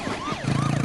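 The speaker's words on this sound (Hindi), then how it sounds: "ये पुलिस सायरन सुनाई दे रहा है।" A police siren wails nearby in a rising and falling sweep, loud and steady for under a second, with traffic rumble underneath.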